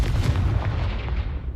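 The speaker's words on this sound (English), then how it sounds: "Confringo!" A Confringo spell blasts in Hogwarts Legacy, a loud, dense explosive boom that rumbles heavily and continuously through a short burst before cutting off.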